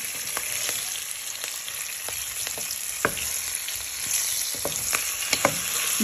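Cauliflower florets fry in a pan until golden, giving a steady close sizzle with occasional pops and crackles and light stirring, no voices.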